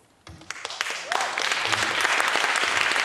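Audience applause at a talk on Malcolm X and radical education begins with a few scattered claps, then swells into dense, sustained clapping from a sizeable crowd that keeps building.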